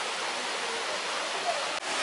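Steady broadband rush of water along a forest trail near a waterfall in Khao Yai, Thailand, continuous and fairly close, with no talk over it.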